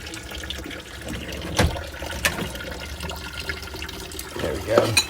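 Hot water running from the tap of an RV sink, a continuous splashing stream with a few louder knocks and clatters, a voice talking over it.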